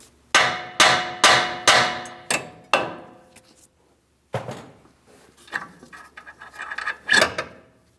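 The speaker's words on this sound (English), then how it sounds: "A couple light taps with a hammer on the steering knuckle." Several sharp metallic hammer taps in a steady rhythm on the steering knuckle of a Ford Transit 250 during front strut replacement, ringing briefly, then a pause and some clanking and rattling of metal parts nearby.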